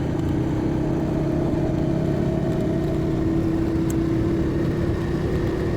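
A Royal Enfield Classic 350 motorcycle engine thrums steadily while riding, a continuous close, loud drone with a low, even pitch that holds throughout without pause.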